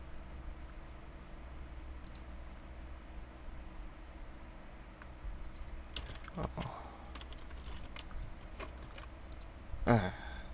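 Keys tap on a computer keyboard while someone writes HTML and CSS code, a scattered run of light clicks over a steady background hiss, ending in a louder clack.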